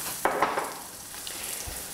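Porcini mushrooms, salted, start frying in a hot pan with a soft, steady sizzle, opening with a few brighter crackles before settling into a quiet continuous hiss.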